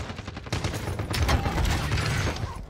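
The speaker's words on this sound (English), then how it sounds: "Taking enemy fire." Bursts of gunfire in a tactical shooter game while taking enemy fire, rapid overlapping shots and volleys, loud and close, with no talk.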